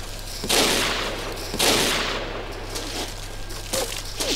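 Rapid bursts of gunfire crack out in Battlefield Heroes, loud and close, with two heavy volleys followed by scattered shots trailing off, and no talking.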